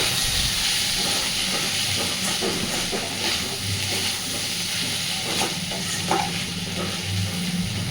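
Potatoes fry in hot oil in a kadai, a loud, continuous sizzle and hiss with occasional scraping and clinking as a utensil stirs them, close up and without talking.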